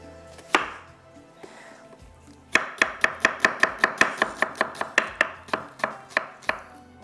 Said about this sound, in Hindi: प्याज को थोड़ा आपने चॉप करना है